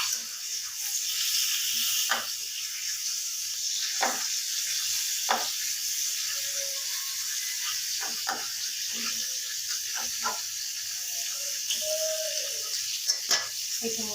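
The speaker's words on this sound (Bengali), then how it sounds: "এখানে এখানে মাছ ভাজা হোক" Rohu fish frying in a pan on a home stove gives a steady, fairly loud sizzle with occasional sharp pops and clinks of a utensil scattered throughout.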